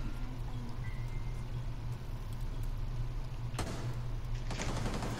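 Nearby gunfire in Rainbow Six Siege breaks out as two short, sharp bursts late in the clip over a steady low in-game hum.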